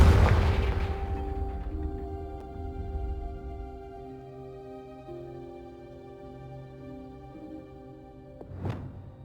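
A Confringo spell explodes in Hogwarts Legacy as a loud booming burst right at the start, a broad blast fading into a low rumbling tail, then a quieter whooshing pop near the end over steady game ambience.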